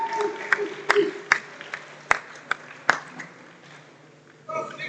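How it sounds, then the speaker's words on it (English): Scattered claps from an audience at the European Small Nations Powerlifting Championships, greeting the men's 93 kg podium. Sharp separate claps ring out over a murmur of crowd voices, and a short burst of clapping swells again near the end. "Round of applause, please, for your 93 kilo podium at the European Small Nations Championships."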